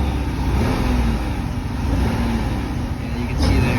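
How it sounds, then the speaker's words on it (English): Hyundai Tucson engine with a misfire revving under test, a steady rough mid-range drone with a slight rise near the end, fairly loud and close, with voices talking over it. "Then you can go ahead and rev it and show the difference."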